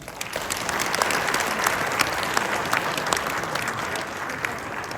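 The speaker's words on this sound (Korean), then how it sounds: "김관영 도시장님께 다시 한번 큰 박수 부탁드리겠습니다" Sustained applause from an audience at a Jeonbuk investment-related event, steady dense clapping throughout at an even level with a few sharper claps standing out.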